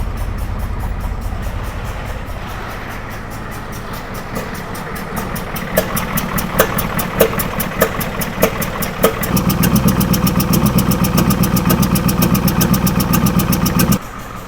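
1990 Ford F350 with a 7.3 IDI diesel engine, sitting six years, cranking and catching into a rough idle with sharp rhythmic knocks, then settling into a fast, loud, steady rattle before cutting out abruptly.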